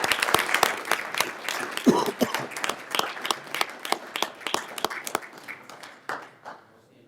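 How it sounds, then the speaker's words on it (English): A small group claps at a city council meeting honoring sports award winners, sharp distinct hand claps in a steady patter that thins out and fades near the end. "He's clapping."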